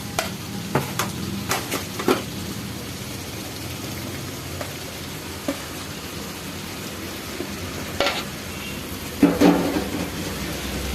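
Meat stir-fried with its fat and potatoes in a pan, a continuous close sizzle with scattered spatula scrapes and knocks against the pan, steady and moderately loud throughout.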